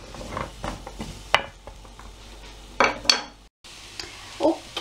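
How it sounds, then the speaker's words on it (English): Potatoes and onions are stirred in a frying pan, giving a run of close, irregular scrapes and clinks of a utensil against the pan over a faint sizzle. "Just stir them occasionally just to make sure they don't stick to the bottom"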